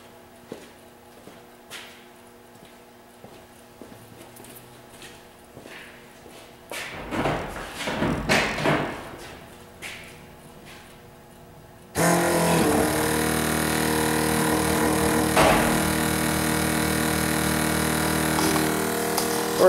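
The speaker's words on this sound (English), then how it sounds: "Sorry about the noise, it's a very noisy pump." A noisy electric fuel pump for a nitrous system switches on partway through after some handling thumps, then runs as a loud, steady whine and buzz that continues to the end.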